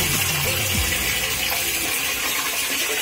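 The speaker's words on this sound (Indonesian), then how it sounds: "Air mengalir ke tempatnya, tinggal dibersihkan aja sedikit," Water rushes steadily into a drain on a newly tiled bathroom floor, a loud, even gushing wash that continues throughout with no talk.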